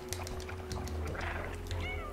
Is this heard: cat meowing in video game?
yes